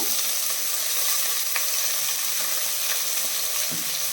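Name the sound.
sliced onions added to frying whole spices in oil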